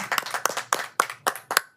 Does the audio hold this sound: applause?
yes